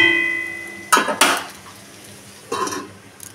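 A metal lid is set onto a cooking pan of cabbage with katla fish head: two quick ringing clanks close together, a pause, then another rattling clatter of metal, with no voices.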